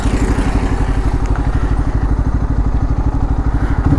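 Bajaj Pulsar N250 motorcycle engine thumping steadily through its double-barrel exhaust, a loud, close, even pulsing beat at idle with no voices.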